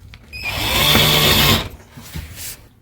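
A power drill drives a 3-inch drywall screw into a fireplace wall frame in one loud, close whir of about a second, which rises and then stops, followed by a few faint clicks.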